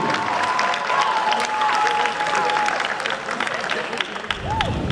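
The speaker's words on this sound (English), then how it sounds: "one big round of applause again for our Somerville High School dance team" Spectators in a Somerville High School gym at a boys' basketball game applaud a dance team with full, continuous clapping and scattered cheers, holding steady for nearly five seconds.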